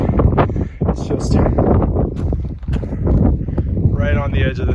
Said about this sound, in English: I know it's probably super windy right now